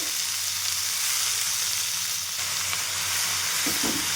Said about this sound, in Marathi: पालक आहे ते आपण छान परतून घेऊ